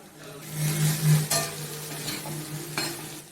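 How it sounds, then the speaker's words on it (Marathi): Potato bhaji stirred in a pan with the lid off: soft sizzling oil under a few spoon scrapes and light metallic clinks, with a low steady hum in the background and no talking. "आता झाकण काढून घेऊ आणि हलवून घेऊ"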